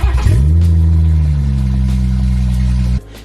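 BMW F31 wagon with a swapped B58 engine cranking to life with a sharp start-up flare, the revs rising then settling into a loud, steady idle that drops abruptly near the end.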